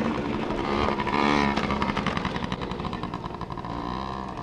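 Motorcycle riding along, its engine revving up and then settling into a steady buzzing drone heard up close, fairly loud throughout with no talk.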